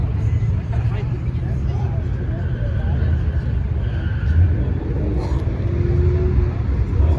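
Dirtfish rally car with plates, its engine rumbling in a steady low idle nearby, with people talking over it throughout.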